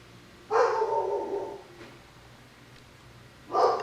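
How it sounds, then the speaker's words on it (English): A protective house dog barking in the background, two separate bursts of barks spaced a few seconds apart, moderately loud and somewhat distant, with no talk. "if you hear the dog in the background"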